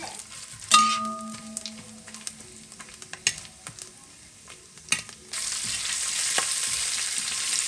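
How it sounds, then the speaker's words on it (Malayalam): Coconut pieces frying in a pan for Bellari beef, starting with utensil clatter, a ringing clang and scattered knocks, then a sudden loud, steady sizzle as the pieces hit the hot oil. "ആ തേങ്ങാക്കൊത്തും ഒന്ന് മൂപ്പിച്ചെടുക്കണം"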